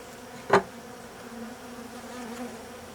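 A low, steady honeybee buzz hums close by at a hybrid beehive, with one brief louder thump early on.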